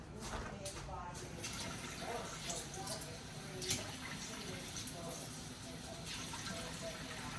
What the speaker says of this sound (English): Put water in here.